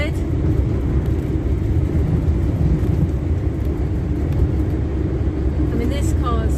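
A 1970 Morris Minor driving along English roads: a steady low engine drone and road rumble heard from inside the cabin, continuous and fairly loud throughout.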